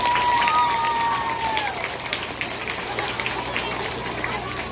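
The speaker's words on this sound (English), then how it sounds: "give her a round of applause" An elementary school audience applauds at an assembly with motivational speakers: a steady wash of clapping fills the room from start to finish, with a few faint whistles and calls near the start.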